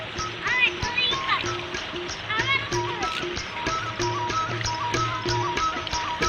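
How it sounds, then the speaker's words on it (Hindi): Water rushes steadily along a village irrigation channel toward the fields, a continuous close flow with birds chirping over it. "ये पानी जा रहा है आगे सारे कमांद की तरफ"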